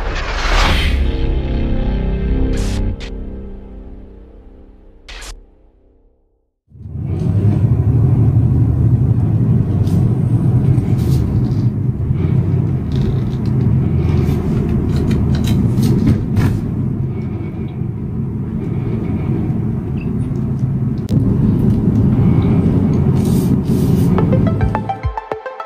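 Chevy SS with long tube headers and a fixed exhaust rattle: a brief startup burst, a short gap, then a steady, loud, deep exhaust rumble idling continuously for about twenty seconds.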